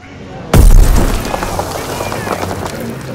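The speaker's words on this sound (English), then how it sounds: "There's a toss of grenade up on the floor." A grenade blast in the World War II shooter Call of Duty WW2 hits suddenly with a loud, deep boom, then rolls off into a long rumbling tail with scattered debris and battle noise.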